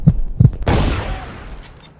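Two pistol shots ring out in quick succession during a duel in the video game Dishonored, followed by a heavier blast with a long, noisy decay that fades over about a second.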